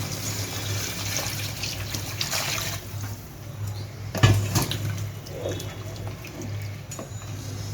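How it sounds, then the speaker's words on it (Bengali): Hot water is poured into a pan of spicy mutton curry in a home kitchen, making a close trickling, splashing pour with a brief louder gush midway over a steady hum. "এখন আমি গরম জলটা দিয়ে দেবো।"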